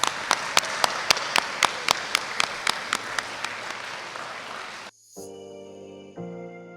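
Audience applause for award recipients at a scholars and sisters recognition day, a steady crowd of clapping with distinct sharp claps on top, fading out before the sound cuts to a brief tonal passage.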